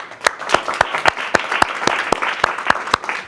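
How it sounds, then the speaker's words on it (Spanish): Audience applauding the team at the close of a talk on Chinese electric vehicles in the European market, with loud, sharp claps standing out in a fairly regular rhythm over a softer bed of clapping. "Así que también un aplauso para ellas."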